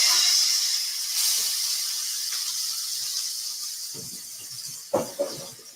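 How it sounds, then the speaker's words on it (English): Loud, steady sizzling hiss of chicken frying in a hot skillet, with a couple of brief knocks near the end. "The sizzle lets you know that your heat is up perfectly and that your skillet is nice and hot."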